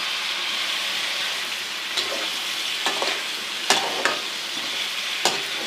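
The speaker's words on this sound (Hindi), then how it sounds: "साइड चेंज कर लें और तकरीबन 3-4 मिनट हमने चिकन को फ्राई करना है।" Chicken pieces frying in hot oil for a chicken korma, a loud steady sizzle close by with a few sharp scrapes and clinks of a spoon against the pan, no talking.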